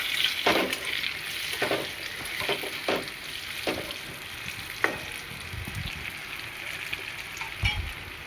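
Steamed bitter gourd (karela) being stirred and fried in a pan for a Marathi-style karela bhaji, with a steady soft sizzle and repeated scraping stirs of the spoon at irregular intervals, no talking.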